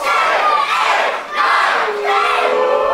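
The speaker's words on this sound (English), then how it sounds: "Our crowd counting along." A wrestling crowd chants loudly in unison, counting along to corner punches, with two big swelling shouts filling the arena.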